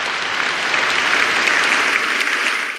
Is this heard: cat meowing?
no